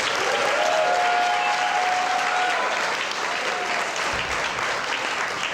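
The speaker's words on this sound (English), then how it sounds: "Those deserve a nice round of applause." An audience at an 8th grade graduation ceremony claps steadily, a dense, even wash of applause from a full room that carries through without letting up.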